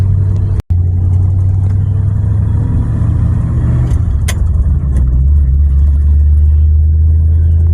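A farm truck with a faulty shifter linkage drives along, its engine rumbling loud and close in a steady low drone, with a brief dropout early on and a shift in engine tone midway.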